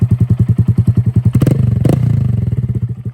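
A Honda Grom motorcycle engine revving up close, rapid rhythmic exhaust pulses rising in pitch, then a brief pop and settling back to a steady idle.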